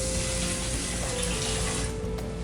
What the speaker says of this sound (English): So you get your rice in there and you put the water in.